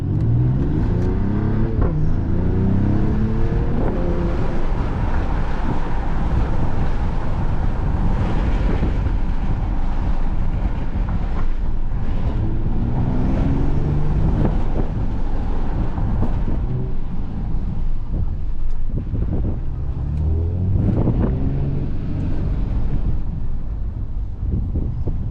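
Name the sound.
2021 Mercedes-AMG GLE 53 4MATIC+ SUV driving in Sport Plus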